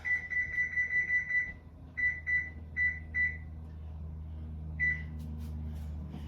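A kitchen timer beeps quietly over a low hum, first in a rapid string of short beeps, then in a few spaced single beeps.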